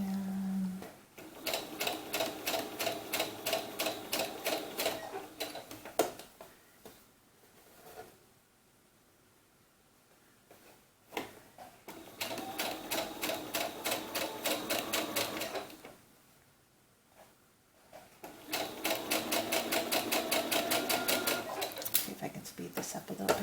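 A sewing machine stitches the fold-line channel of a doll's sunsuit in three rapid buzzing runs with pauses between, close and fairly loud; a person talks quietly during the gaps.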